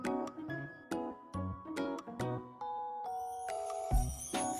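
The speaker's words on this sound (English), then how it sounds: "The school bell rang." A school bell rings in a string of clear, bright chiming tones, struck several times at an even pace before a higher ringing chord closes it, loud and alone with no talk.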